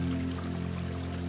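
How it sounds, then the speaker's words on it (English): A babbling brook of clear rushing water flows steadily nearby, a constant soft, even wash of trickling water without pauses or voices. "take in the sound of the babbling brook that runs by your feet"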